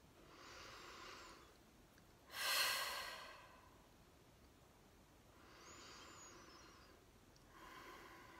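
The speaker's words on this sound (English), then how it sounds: "first we're just going to take a couple of nice deep breaths" Three slow, deep breaths, each a soft airy inhale or exhale with a clearer, louder one between them, drawn close to the microphone in a quiet room.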